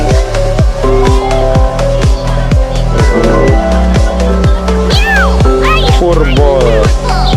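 A cartoonish cat meowing in the video game Tree of Savior Neverland, loud over a pulsing, rhythmic game soundtrack, with voices talking through the scene.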